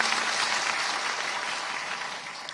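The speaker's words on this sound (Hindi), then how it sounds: "मैं आप सबसे आग्रह करूंगा बच्चों को प्रोत्साहित करने के बाद जोरदार ताली बजाएं।" An audience claps for a children's Raut Nacha dance performance at an Arya Samaj 150th foundation day gathering in Raipur, producing a dense, steady round of applause that fades slightly toward the end.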